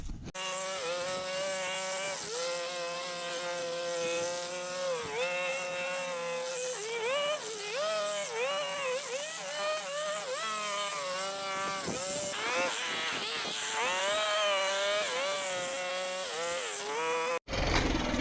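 A power trimmer running in a yard, a loud buzzing engine whine that rises and falls as it revs while cutting, close and continuous throughout.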